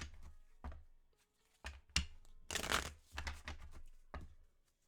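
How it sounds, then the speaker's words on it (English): Tarot cards are shuffled by hand in quick, crisp riffles and soft slaps. The bursts are close and uneven, with short pauses between them and no talk. "Because I keep shuffling and two keep popping out"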